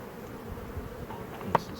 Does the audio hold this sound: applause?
no